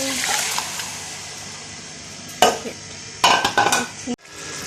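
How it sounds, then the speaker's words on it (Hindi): Marinated chicken hits hot oil, about one and a half cups, with a loud broadband sizzle, then splashes and stirring clatter in bursts as the frying continues, before a sudden drop near the end. "तो अब ऑयल हमारा गर्म हो गया है। अब हम अपना मैरिनेट किया हुआ चिकन इसके अंदर डाल देंगे।"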